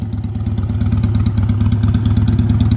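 Loud, choppy straight-piped motorcycle exhaust pulsing rapidly and steadily up close, a raw staccato engine beat with no talking.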